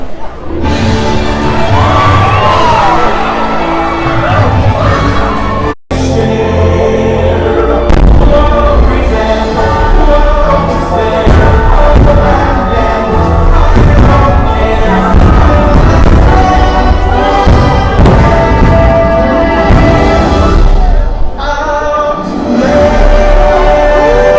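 The Magic Kingdom fireworks show bursts in loud, repeated booms and crackles under a dense musical soundtrack, with crowd noise and occasional cheering throughout.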